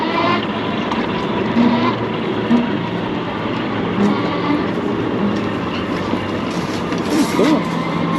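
A UBCO 2x2 all-wheel-drive electric bike rides along a road in Portland with a steady, loud motor whine and rolling hum, mixed with wind rush and a few faint voices.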